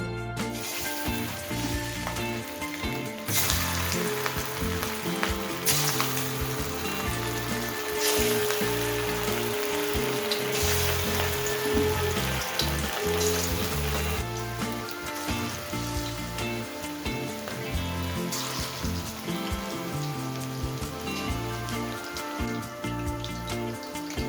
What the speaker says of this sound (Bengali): চিকেনটা দেবার সাথে সাথেই কিন্তু উল্টাবো না, খানিকক্ষণ এক পিঠটা একটু হতে দেবো।